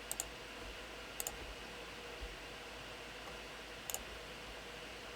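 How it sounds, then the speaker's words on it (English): A computer mouse clicks while working in AutoCAD: three quick double-clicks spaced a second or more apart, sharp but faint over a steady hiss of fan-like background noise. "I could click on it."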